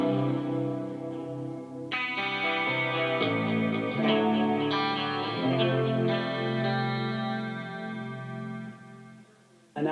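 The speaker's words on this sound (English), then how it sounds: "here's this guitar through the clean channel of the amp" A clean Ibanez Jemini-equipped electric guitar setup through an amp's clean channel plays chords and ringing notes with a bright, undistorted tone, sustained and full for several seconds with no talking.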